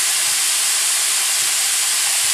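Hamburger meat and onions brown in a pan for a hearty sauce, giving a continuous loud hiss and sizzle with no voices.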